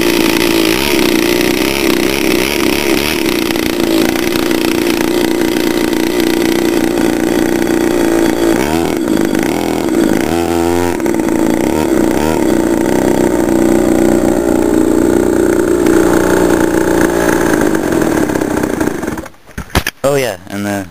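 A modified 49cc pocket bike engine runs loud and close, a raspy two-stroke buzz holding steady with a few revs rising and falling before it sputters and cuts out near the end.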